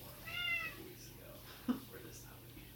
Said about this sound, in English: My moment actually ended up being with this cat who was outside.